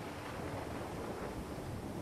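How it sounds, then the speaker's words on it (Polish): Steady roaring rush of a waterfall in the game Far Cry Primal, a dense continuous wash of water noise with no breaks, moderately distant and without speech. "Ty, Stasiu, to jest wodospad, nie"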